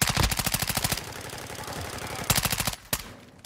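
Fast automatic gunfire in Call of Duty: Modern Warfare II, a long rattling burst up front, then a second quick burst and a lone shot, close and fairly loud.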